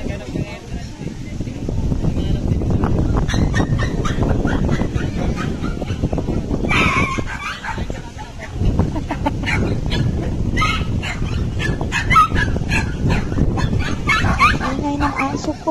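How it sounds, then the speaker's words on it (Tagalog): Dog at a busy seaside promenade, barking and yipping repeatedly in quick bursts amid crowd noise, with a person talking over it. "Ang ingay ng aso ko."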